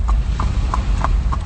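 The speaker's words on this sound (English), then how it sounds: "there was this horse running down the highway" Horse hooves clip-clop at a steady, even trot, five clear hoof strikes about a third of a second apart over a low rumbling background, close and fairly loud.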